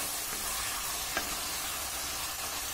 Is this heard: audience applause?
no